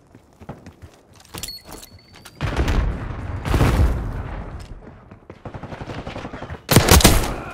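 Gunfire in the Black Ops 6 video game: scattered shots and rapid bursts build into dense, sustained firing, ending in a loud, close volley near the end.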